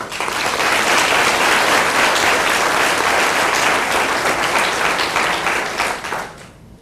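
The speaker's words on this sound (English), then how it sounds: "Another round of applause to all of them." A board of education meeting audience gives a sustained round of applause, loud and dense from start to finish before fading out at the very end, with no talking over it.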